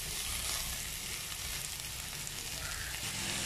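Sliced onions frying in a pan for fish pollichathu, a steady dense sizzle with a soft scraping stir, close and continuous with no talking.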